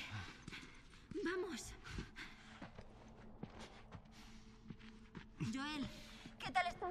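Horse hooves clip-clopping in The Last of Us on PS3, light, rhythmic steps running under game dialogue, with a brief spoken line.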